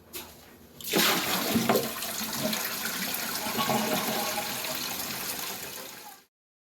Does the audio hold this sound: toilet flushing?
yes